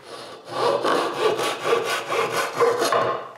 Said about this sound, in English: The last thing to do is to cut the tenons to the right length